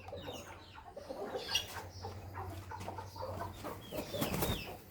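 Young Burmese roosters, eight birds on a farm, cluck softly and intermittently at a moderate distance, forming a faint, scattered farmyard chatter.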